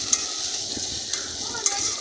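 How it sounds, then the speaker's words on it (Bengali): Chopped onion sizzles in hot oil in a pan, stirred with a few sharp scraping clicks over a continuous close frying hiss. "তেলটা গরম হয়ে গিয়েছে, এখন নেড়ে একটু ভাজা ভাজা করে নিচ্ছি।"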